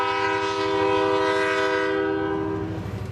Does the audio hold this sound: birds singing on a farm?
no